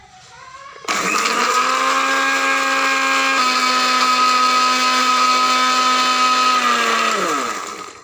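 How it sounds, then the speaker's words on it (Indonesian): A kitchen blender whirs into a loud, steady high-pitched grind as it purees peeled shallots with added water, running evenly for several seconds before spinning down. "Selanjutnya kita haluskan dengan blender."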